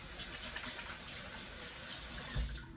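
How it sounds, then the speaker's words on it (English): Water runs steadily from a tap as hands are rinsed in a kitchen, a close, even hiss and splash that ends with a brief thump. "I'm going to rinse my hands off a little bit"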